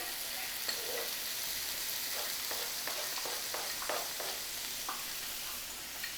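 Garlic frying in a hot pan alongside bucatini pasta, giving a steady, close sizzle with faint stirring clicks and scrapes throughout and no voices.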